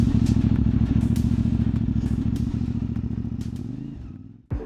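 A CFMOTO 450MT adventure motorcycle rolls to a stop, its rapid, evenly pulsing engine note winding down and slowing toward idle before a sharp thump at the very end, close and loud without talk.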